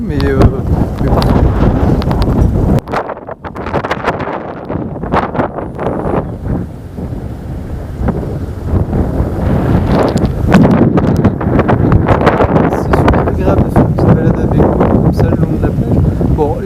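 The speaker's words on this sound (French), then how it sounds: "il y a pas mal de vent comme vous le voyez sûrement à ma coupe de cheveux" Strong wind on an overcast beach in Okinawa, loud gusty rumble buffeting the microphone almost continuously, with faint waves underneath.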